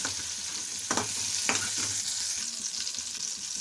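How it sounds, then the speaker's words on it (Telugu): Cumin seeds frying in a pan with a steady broadband sizzle, a couple of brief stirring scrapes near the start, close and fairly quiet, no talking. "వీటిని కొంచెం వేగనివ్వాలి."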